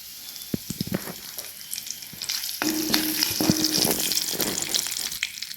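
Mustard seeds and curry leaves crackle and sizzle in hot oil for green tomato chutney, with sharp pops early on giving way to a steady, close, loud sizzle; a brief faint tonal clink runs through the middle.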